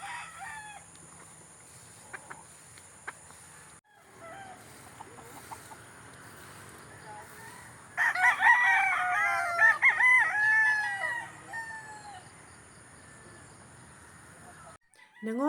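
Chickens and roosters on a gamefowl farm, with several roosters crowing loudly and overlapping near the middle amid scattered clucking and softer background crowing.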